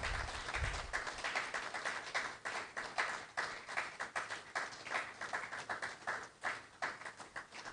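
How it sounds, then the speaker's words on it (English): Scattered clapping from a small audience at a Lagos Chamber of Commerce security and business meeting, uneven and fairly faint, with individual claps standing out rather than a full roar. "applause wherever you are."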